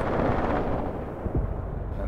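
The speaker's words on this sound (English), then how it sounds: "that was one of the mortar shells dropping" Mortar shells detonate in the Panzer Shock war game, a dense, rumbling barrage of low booms with one sharper thud near the end, loud and continuous with no voices.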